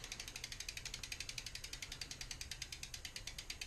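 A ratchet tool loosens a thread-locked bolt on a Subrosa Malum 22 bike, producing a rapid, even run of faint clicks close by, with no talk.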